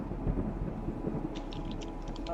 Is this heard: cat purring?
no